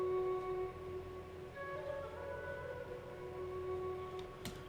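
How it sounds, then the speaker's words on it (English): Quiet, breathy ethnic flute phrase from Orchestral Essentials in Kontakt, a few held tones with gentle pitch changes over a soft background, no voices. "I then added this flute from Contact, something like this."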